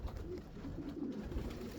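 Racing pigeons coo softly outside a loft in Lithuania, a steady low murmur of several birds overlapping at moderate distance with faint outdoor background.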